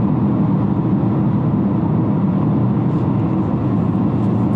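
A 2020 Toyota Corolla Hybrid accelerating on a test drive, a steady close-up rumble of engine and road noise inside the cabin.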